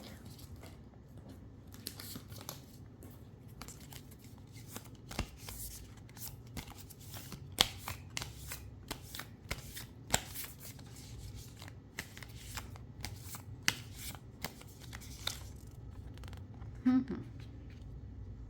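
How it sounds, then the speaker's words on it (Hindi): Tarot cards are shuffled in soft, repeated riffling and rubbing bursts throughout, faint and close against a quiet room. "let me shuffle one more card"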